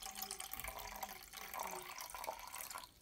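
Sugar water pouring from one cup into another, half a cup being transferred, a steady close trickling splash that tapers off at the end.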